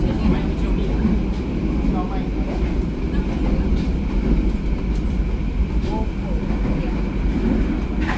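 Sawunggalih economy train running on rails in the late afternoon, heard from inside a carriage as a steady, loud rumbling roll with faint rhythmic clatter throughout, and a voice speaking over it.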